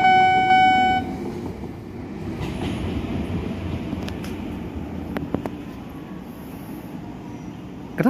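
A KRL commuter train rumbles steadily past a level crossing in Beji, Depok, with wheel clatter and a few sharp metallic squeals. The crossing bell tone rings at the start before the train noise takes over.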